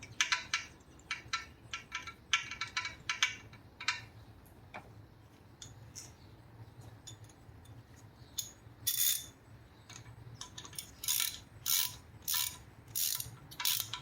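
Ratchet clicking while tightening the valve cover bolts on a Honda Civic engine, quiet close bursts of rapid pawl ticks in short spurts with pauses, some louder bright clicks toward the end, no voices.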